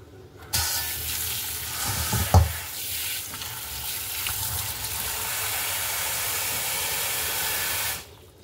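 Cut flat bean pods are rinsed in water, with a steady running-water wash and a brief clatter early on before the flow stops.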